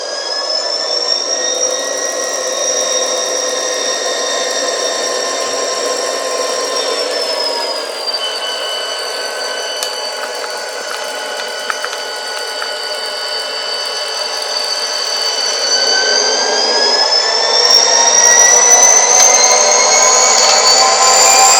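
Athearn Southern Pacific GP40X model locomotive with a LokSound 5 sound decoder, giving a continuous whining diesel drone whose pitch shifts as the throttle rises, steady and close with no talk.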